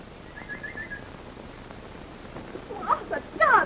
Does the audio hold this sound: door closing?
no